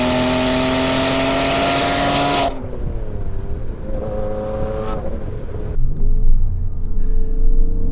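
Turbocharged Porsche Cayman with a manual gearbox on a mountain drive, engine loud and steady, then dropping in pitch as revs fall and climbing again, with a rumbling drone throughout and no talk.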